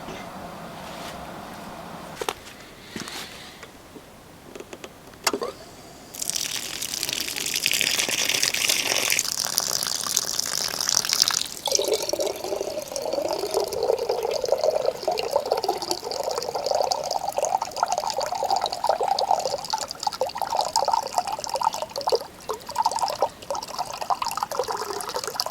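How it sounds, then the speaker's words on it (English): Water pours steadily into a container to dilute lime sulfur up to a full quart, starting after a few faint clinks and running as a continuous close filling rush for most of the clip, with no talk. "So I'm going to go ahead and dilute it down here to be a full quart."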